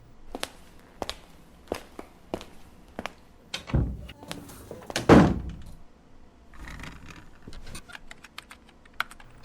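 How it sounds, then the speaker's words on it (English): A door thuds shut. The heavy slam stands out near the middle, among scattered sharp taps and clicks in a quiet room. "don't forget to shut the door"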